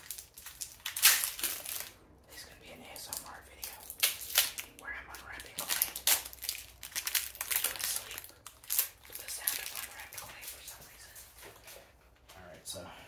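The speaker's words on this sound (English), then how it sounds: "so we're going to unwrap our clay" Mothers clay bar coming out of its plastic packaging in a car-detailing clay bar kit, with intermittent crinkling and rustling crackles in short bursts, close to the mic, and no clear talk over them.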